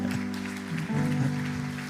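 Church congregation applauding a family during a Sunday worship service, a steady wash of clapping sustained throughout, with a sustained tonal background and faint voices beneath.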